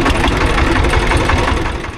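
A boat's engine on a river crossing to a char in Faridpur district runs loud and close, a steady rough mechanical drone with a knocking undertone that holds for the whole moment.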